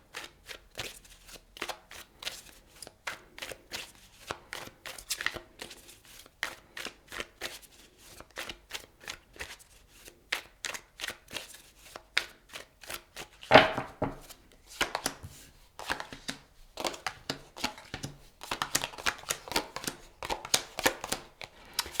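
Tarot cards are shuffled in a continuous run of crisp riffling flutters and slaps, close and clear, with brief pauses and no talking.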